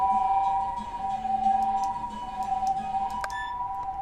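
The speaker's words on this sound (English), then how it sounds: "I hear some sirens" A steady wailing siren in the video game Tokyo School Life, holding a sustained tone over a low background hum, distant-sounding and continuous for several seconds with a faint click near the end.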